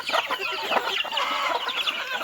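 Burmese-breed chickens cluck and squawk in quick, overlapping bursts, close by and fairly loud, with no talking.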